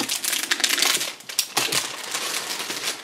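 Plastic bags of parts from a 12.8cm K44 PaK anti-tank gun model kit being opened, with loud close crinkling and crumpling that comes in bursts and keeps rustling throughout.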